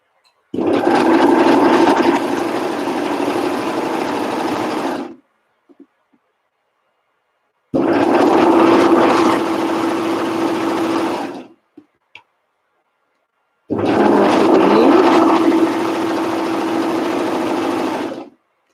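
Sewing machine stitching flared knit pants, running in three long steady bursts of about four to five seconds each, separated by silent pauses, close and fairly loud.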